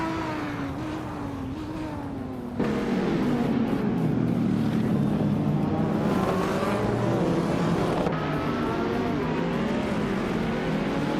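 Race cars start in a racing video game, led by a 2014 Dodge Viper SRT GR3, and several engines rev and climb in pitch together. The engines idle, then surge into a loud sustained roar as the pack accelerates, with shifting whines layered over one another.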